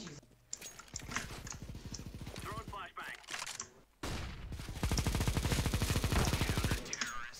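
A Negev machine gun fires in a 1v1 video game match, first in a stuttering burst, then in long sustained streams of rapid shots, with a voice talking in between.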